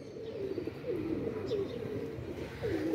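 Trained high-flyer pigeons coo softly and steadily in a low, rolling murmur, moderately close against an outdoor background hiss.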